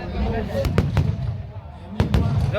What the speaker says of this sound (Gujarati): જો મિત્રો ફટાકડા ફૂટી રહ્યા